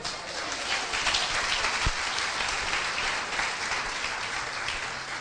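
A church congregation gives a loud, sustained applause during a sermon, a dense wash of many hands that stays steady and even for about five seconds with no voices over it.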